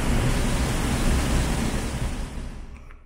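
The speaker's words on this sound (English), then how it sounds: "It's Chamber of Sound, turned on by the tide." Tide-driven roar from a Portuguese sea cave sound chamber: a dense, steady rush of broadband noise, loud and continuous, that fades away in the last second.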